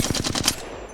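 Heavy-ammo rifle fired in the Apex Legends video game: a quick burst of about five rapid, punchy shots in even rhythm, loud and close, then a short fading tail, with no talk.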